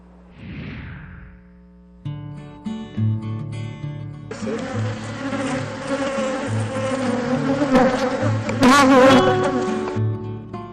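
Bees buzz densely at an apiary in Sinanché, Yucatán, a steady close insect drone that swells louder after the first few seconds and holds throughout, with no talk.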